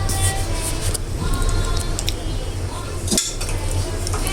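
Plates and bowls clink and knock together during washing up in a home kitchen, with irregular metallic clatters over running background noise, all close by.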